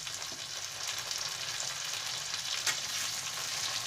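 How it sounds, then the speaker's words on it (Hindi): Chopped tomatoes fry on a tawa for pav bhaji, giving a continuous close sizzle with light stirring scrapes and no talking. "2 मिनट इसे भी हम भून लेंगे।"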